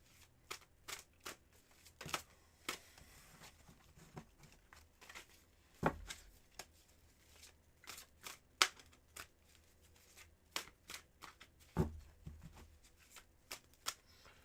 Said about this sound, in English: let me do this cleansing shuffle for you